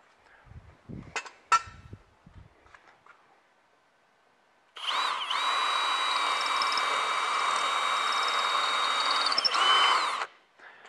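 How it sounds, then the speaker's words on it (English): After a few handling knocks, a power drill whirs steadily at high speed for about five seconds, close by, drilling pilot holes on a Jeep Wrangler, then winds down. "then I'm gonna drill some pilot holes."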